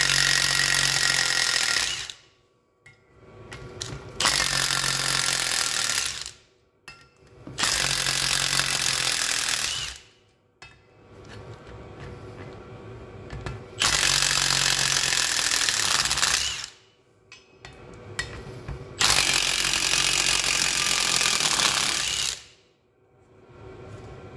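Bolts come undone on the front brakes of a Ford Transit Mk8 with a power tool. Loud, close bursts of rattling whir last several seconds each and are separated by short pauses, with no talking.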